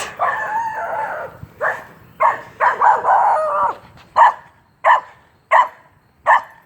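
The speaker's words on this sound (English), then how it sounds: "Cute dog." A dog barks and yelps nearby, first in a longer howling stretch, then in a series of sharp, evenly spaced single barks.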